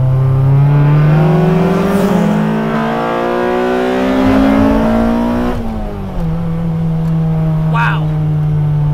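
A 1990s Honda Civic EG6 SiR engine revs loud and close in second gear to about 4,000 RPM, its pitch climbing steadily, then dropping sharply at a gear change before settling into a steady drone.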